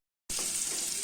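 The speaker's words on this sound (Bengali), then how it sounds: "এটা একটু ভাজা হতে থাক, একটু ভাজা হতে থাক।" Onions frying in a pan while cooking chicken, a steady close hiss of sizzling oil that starts abruptly after a brief silence and holds constant.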